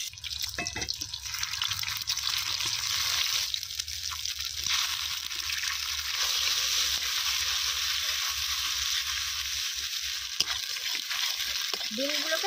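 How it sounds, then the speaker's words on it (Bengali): Three beaten eggs frying and being scrambled into crumbles in oil in a village kitchen wok, a continuous soft sizzle with occasional spatula scrapes and a few clinks, no talk. "প্রথমে ডিমটা ভেজে নেব"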